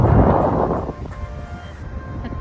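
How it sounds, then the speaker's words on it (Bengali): Wind gusts across a sea beach, buffeting the microphone in a loud, low rumble at first and then easing into a softer, steady rush, with no one speaking. "এত সুন্দর বাতাস।"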